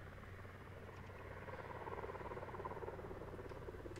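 A helicopter from the climbing video game The Climb makes a steady, droning rotor hum that holds evenly throughout, moderately loud and growing slightly fuller midway.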